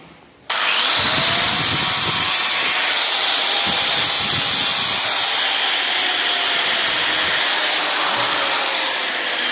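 A grinder cleaning a weld bead in a welding practice session, starting abruptly and running as a loud, steady high-pitched whine with a gritty hiss throughout.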